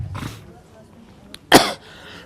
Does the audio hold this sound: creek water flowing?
no